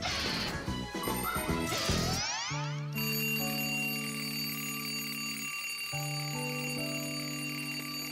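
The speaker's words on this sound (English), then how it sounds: "Tom Thomas, why is your alarm clock ringing in the middle of the night, huh?" In a cartoon, a mechanical alarm clock bell clatters loudly in the night, then gives way to a sustained electronic beeping tone that pulses steadily for several seconds.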